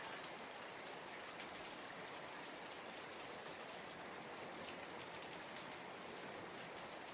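Steady rain falls continuously, a soft, even hiss of countless drops with faint patters scattered throughout, quiet and unbroken from start to finish with no voices.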